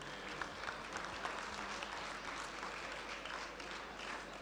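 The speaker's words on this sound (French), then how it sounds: "Vous pouvez applaudir ces jolis animaux qui le méritent." Steady applause from an audience at a cattle show, a dense patter of many hands clapping at moderate distance, continuous throughout.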